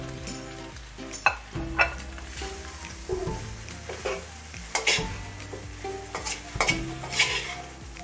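Leftover roti pieces, cut up from the night before, frying in a pan for Chinese fried bread, with close sizzling and intermittent stirring clatters and scrapes, no talk.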